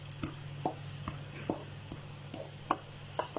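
Salt being worked by hand into a KFC-style chicken mixture, heard as soft, irregular slaps and squishes spaced about half a second apart, close and quiet over a low steady hum.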